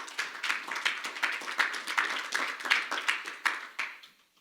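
A church congregation claps during a Spanish-language sermon, a soft, fairly distant round of applause with audible individual claps for about four seconds before fading out.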